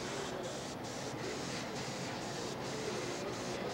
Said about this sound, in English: I'm never looking at my airbrush.